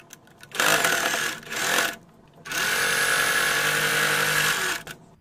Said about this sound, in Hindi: यहाँ पर सिलाई लगा देनी है।